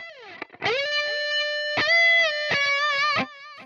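A distorted electric guitar plays a short melodic phrase on its own, with a string bend and slide leading into sustained, wavering notes followed by a few picked notes.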